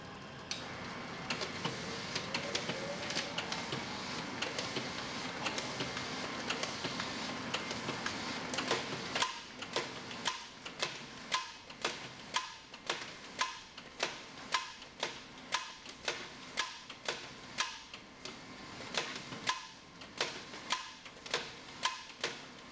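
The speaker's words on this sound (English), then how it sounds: "Shown here is our optional friction feeder, an affordable alternative for maximum production." An MGL tape machine fitted with an optional friction feeder runs steadily, a dense mechanical whir giving way after several seconds to a fast, regular train of sharp clicks and ticks from the feeding mechanism, close and alone.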